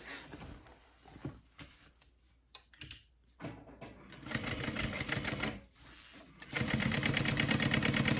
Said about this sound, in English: So we're going to be top stitching our vinyl.